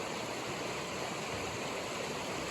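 Steady broadband rushing of river water flowing along a Washington stretch of the Pacific Crest Trail, continuous and moderately loud with no other sounds.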